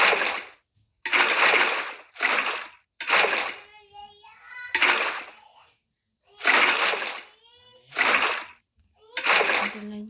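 Water poured from a bucket in the Craftsman video game, repeated loud splashing bursts of about a second each, separated by short gaps, with a voice heard between them.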